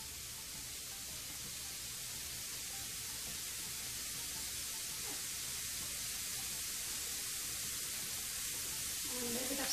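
Butter sizzling on a hot hibachi griddle beside shrimp, scallops and lobster, a steady soft hiss that holds evenly throughout and swells slightly at the very end.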